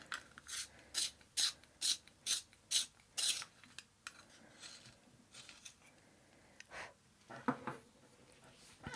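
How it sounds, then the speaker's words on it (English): A warm grey 1 colored pencil is sharpened with a series of quick, evenly spaced scraping grinds, about eight strokes in a row, followed by a few slower, scattered rasps, close and fairly quiet, with no voices. "So you remember to give it a nice sharpen,"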